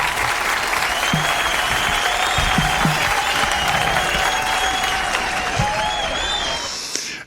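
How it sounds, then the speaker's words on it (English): A live online holiday show audience breaks into sustained applause with cheering, holding steady and loud throughout before fading at the end. "Crowd goes crazy."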